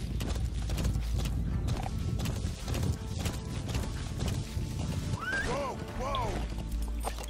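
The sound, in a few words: horse hooves galloping in the video game Metal Gear Solid 5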